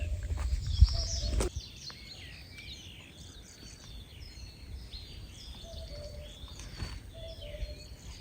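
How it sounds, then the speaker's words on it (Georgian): A cuckoo calls in the forest near a tent after rain, its soft two-note hoots repeating faintly in the distance among other small bird chirps, following a brief louder rustle at the start. "ნუ გუგულის ხმა გესმის?"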